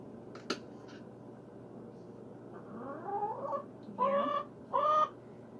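A pet chicken makes soft clucks and a few short, louder squawking calls in a quiet indoor setting, with a sharp tap early on.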